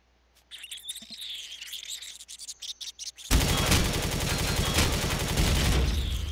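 A sustained, loud burst of automatic gunfire in Empyrion Galactic Survival, set in a desert, erupts abruptly after quieter insect-like chirping and ticking, then rattles on densely to the end.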